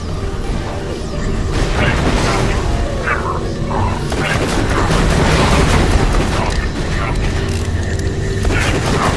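Grenade explosions in a Borderlands 2 combat scene, a series of loud booms and bursts mixed with mechanical clatter and gunfire.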